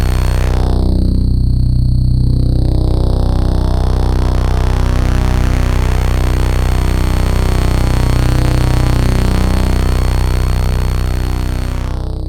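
Low pass output of an Analogue Solutions Telemark Multimode Filter eurorack module, a loud, continuous, thick synth tone with a slowly sweeping filtered buzz that stays steady throughout.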